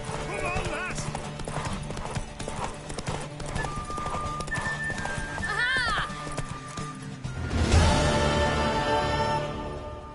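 A horse gallops in The Witcher 3, with close rhythmic hoofbeats under a speaking voice and music, a whinny partway through, and the galloping growing louder and busier near the end.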